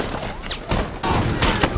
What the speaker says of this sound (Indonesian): ditembaki oleh senapan mesin Soviet